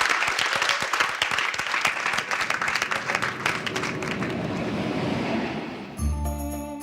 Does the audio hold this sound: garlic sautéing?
no